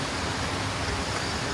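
Steady broadband rush of a river flowing behind a forest campsite, continuous and even with no breaks, close and fairly loud.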